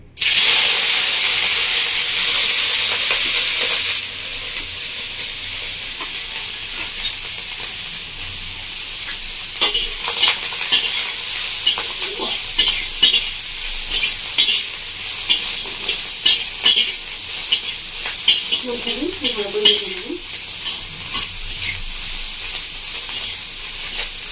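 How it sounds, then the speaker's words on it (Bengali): Shrimp coated with turmeric and salt fry in hot oil, a loud steady sizzle at first that drops to a softer, crackling fry with occasional stirring scrapes. "এবার আমি দিয়ে দিচ্ছি এর মধ্যে লবণ চচ্চড়ি চিংড়ি মাছটা"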